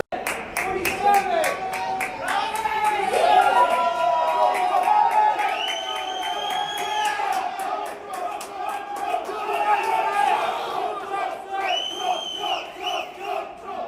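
A small crowd in a hall cheers for Donald Trump with whoops and rhythmic clapping, bursts of shouting rising and falling over a steady background of voices.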